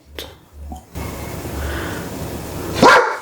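A dog gives a couple of soft low woofs, then a louder sharp bark near the end, with quiet breathing and shuffling in between.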